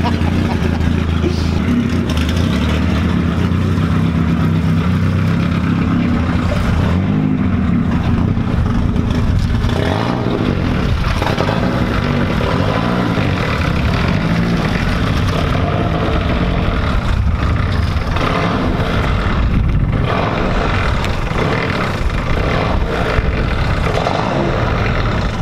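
Aircraft engine running with its muffler removed, a loud continuous low roar with rough throbbing and fluctuating revs that stays close and constant throughout.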